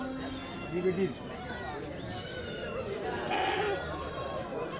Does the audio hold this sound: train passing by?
no